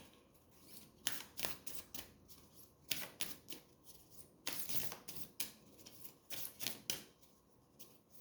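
A deck of cards being shuffled in repeated bursts of crisp riffling and flicking, several quick shuffles separated by short pauses, fairly close and without voices.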